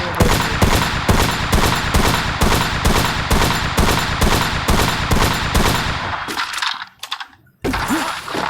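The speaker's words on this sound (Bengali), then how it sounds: "ওই জায়গা থেকে গুলির আওয়াজ পাওয়া যাচ্ছে" Rapid automatic gunfire in the Free Fire video game, loud repeated bursts of evenly spaced shots for several seconds, then scattered shots after a short lull.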